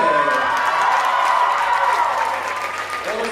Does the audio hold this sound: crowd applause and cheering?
yes